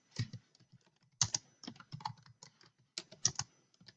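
Keys clatter on a computer keyboard in quick irregular bursts of clicks with short pauses, close and fairly quiet.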